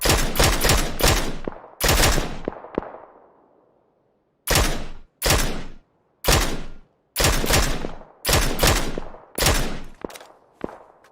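Bursts of gunfire from a shooter in the sci-fi video game Occupy Mars, loud repeated volleys of rapid shots with short gaps between them, one burst trailing off into a fading echo, no talk over them.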